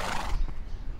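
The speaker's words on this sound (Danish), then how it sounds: "Jeg kan høre hesten." A horse whinnies in the Minecraft video game, a single bright neigh fading over about a second, with soft game ambience underneath and no talking.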